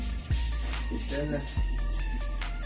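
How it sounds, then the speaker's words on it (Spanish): Sandpaper rubs steadily over the clear coat on a motorcycle fuel tank in a close, continuous scratchy hiss, with a short spoken question over it. "Hay que lijarlo a conciencia, una buena lijada."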